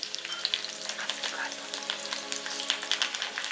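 Dry red chilli pieces and thinly sliced garlic crackle and sizzle in hot oil, a close, busy spatter of small pops over a steady frying hiss, with light stirring.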